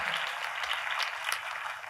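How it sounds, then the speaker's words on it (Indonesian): A church congregation applauding for Jesus during a sermon: dense, steady clapping from many hands, moderately distant and even in level for two seconds, with no voices standing out. "kalau mau tepuk tangannya yang paling meriah buat Yesus Tuhan kita"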